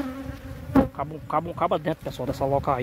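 Wild bees buzz at a honey-filled nest deep in a rock crevice on a cliff, a close, constant insect drone beneath people talking.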